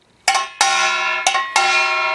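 Four quick strikes on a small Korean kkwaenggwari gong from farmers' music, hit with a wooden stick, ring out brightly and closely, each metallic tone sustaining into the next in a lively uneven rhythm.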